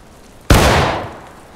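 A single sharp musket volley in War of Rights, a hard crack at close range followed by a rolling echo that decays over about a second, alone with no voices.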